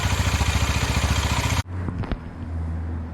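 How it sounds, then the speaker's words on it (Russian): A motorcycle engine idles with a steady close pulsing rumble while warming up, then cuts off abruptly partway through, leaving a quiet room with a few faint clicks and a low hum. "Немного погрел двигатель, минуты 3"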